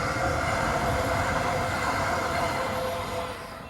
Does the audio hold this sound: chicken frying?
no